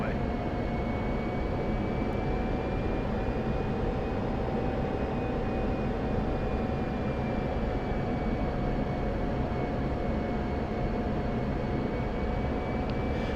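F-16C jet engine on a straight-in landing approach in the DCS flight simulator, a steady, unbroken cockpit drone with a faint high whine that stays even throughout.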